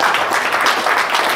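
Dense, continuous clapping from many hands, a loud, steady patter of applause with no gaps.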